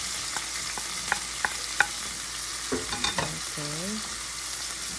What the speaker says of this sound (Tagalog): Medyo brown na yung bawang. Kaya isunod na natin ang sibuyas.